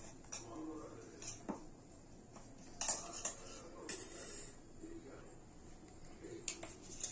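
Dahi paneer stirred with kasuri methi in a pan gives quiet clinks and scrapes of a metal spoon against the cookware, coming in short irregular bursts over a soft background.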